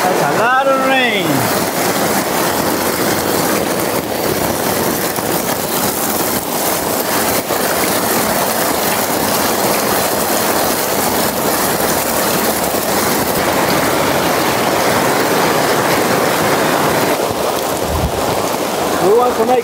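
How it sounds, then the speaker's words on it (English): Heavy rain pours onto a tent in a steady, loud, hissing roar that barely changes, with a brief voice near the start. "I hope we won't get any rain in the tent because that's a lot of rain."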